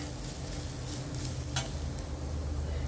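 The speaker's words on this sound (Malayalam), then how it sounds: "നന്നായിട്ടൊന്ന് ഇളക്കാം." Spice powders stirred into okra masala in a pan, a soft continuous frying hiss with faint scraping and one brief clink, under a steady low background hum.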